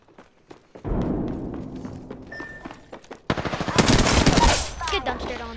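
Rapid bursts of automatic gunfire from the Apex Legends battle royale game, loud and dense, with a quieter stretch of shots before a heavier sustained volley in the second half.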